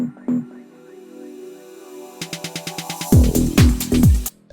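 In a minimal deep house track, a hissing pad swells and sweeps upward over a quickening run of clicks, then breaks into the drop with heavy, thumping low kicks and bass hits.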